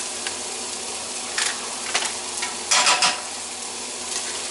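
Spoon stirring two packets of rice into a pot of boiling water, with a few soft scraping strokes and bursts of bubbling over a steady simmering hiss.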